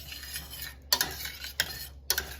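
Melting nacho cheese is stirred in a pan, with a few distinct clinks and scrapes of the utensil against the metal over a quiet hum, each stroke sharp and close.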